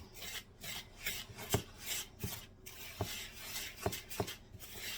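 A small whisk scraping and rasping against a cup of hot chocolate, a steady near scratchy rubbing with a few sharp clinks of the wire against the cup, no talking.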